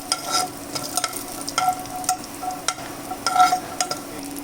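Cashew pieces are sautéed in a pan as garnish for chana dal payasam, with a soft sizzle under quick, irregular stirring scrapes and light metallic taps.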